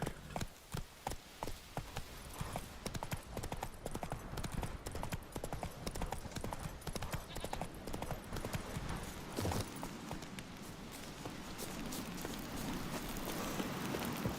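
Geralt's horse Roach from The Witcher 3: Wild Hunt gallops in a steady, rapid rhythm of close, distinct hoofbeats, with a faint whinny and other game ambience underneath; no speech.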